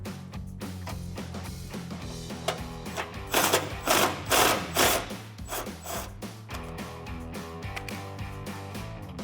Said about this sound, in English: Now we're going to loosen the top one a little bit more.